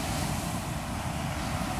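Ocean surf washes onto the beach at Ocean City, Maryland, as a steady, broad rushing roar mixed with wind buffeting the microphone and no talk.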